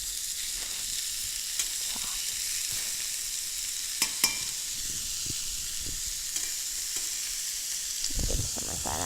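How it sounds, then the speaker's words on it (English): Ground turkey sizzles steadily in a hot pan, a continuous bright hiss with a few soft clinks and stirring scrapes, close and alone without talk. "Next, we're going to add our ground turkey."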